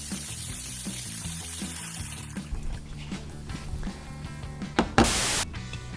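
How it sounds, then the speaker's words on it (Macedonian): Water is poured into a cooking pot of marinated beef, a steady trickle lasting several seconds under faint background music, ending with a short louder splash. "Треба да ставиме вода, меѓутоа не многу вода,"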